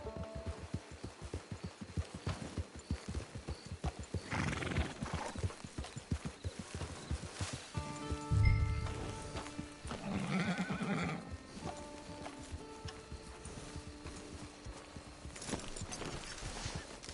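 Horse in Red Dead Redemption 2 clip-clopping at a steady walk throughout, with a loud whinny near the middle and a couple of softer neighs, set against game background music.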